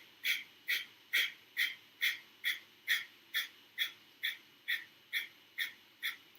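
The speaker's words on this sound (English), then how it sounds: "Keep breathing and use this first breathing technique to clear your mind." Rhythmic, forceful breaths repeat during a yoga breathing exercise, about fourteen sharp, evenly spaced bursts close to the mic with quiet gaps between them and no speech.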